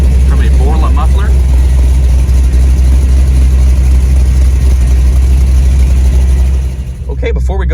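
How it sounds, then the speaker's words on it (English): A 1984 GMC Jimmy Sierra Classic idles loudly and steadily, with a deep, constant exhaust rumble from a Borla muffler under the driver's side. Someone talks over it, and the engine dips near the end. "The exhaust exits underneath the driver's side here from a Borla muffler."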